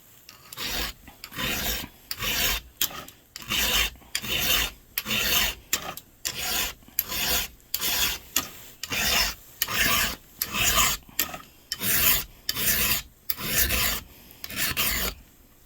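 A hand file sharpens the teeth of a chainsaw chain in an evenly spaced series of about twenty rasping strokes, each a short gritty scrape followed by a brief pause, close and clear.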